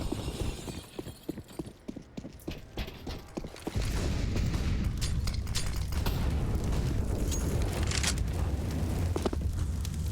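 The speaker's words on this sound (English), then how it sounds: "That's a pretty meaty nade." A grenade goes off in a CS:GO match on Vertigo: a sudden heavy boom leads into a sustained loud roaring rumble, with sharp crackling hits and clatter scattered before and through it.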